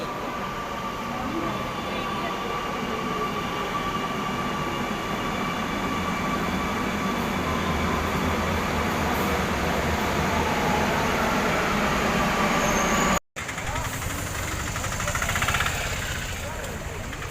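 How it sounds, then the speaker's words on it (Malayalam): A metro train pulls into a station with a loud, continuous rumble and rising mechanical whine that fills the whole stretch, then cuts off sharply and resumes more quietly near the end. "യെസ്, നമ്മുടെ മെട്രോ വന്നുകൊണ്ടേയിരിക്കുകയാണ്."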